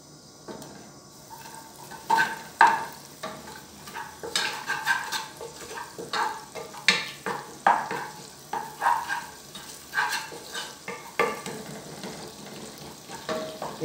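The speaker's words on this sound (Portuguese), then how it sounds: "Deixar o alho aqui fritar para não juntar a carne." Garlic frying in hot oil in a pan while being stirred, giving a steady sizzle broken by repeated scraping and clinking strokes of a utensil against the pan, close and moderately loud with no talking.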